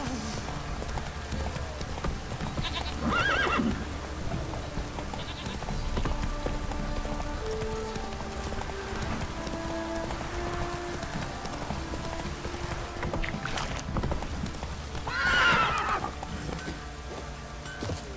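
Roach, the horse in the video game The Witcher 3, gallops through rain with steady rhythmic clip-clop hoofbeats over constant rainfall and background music, plus two brief louder bursts.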